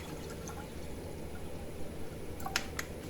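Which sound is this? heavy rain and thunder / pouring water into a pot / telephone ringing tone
pouring water into a pot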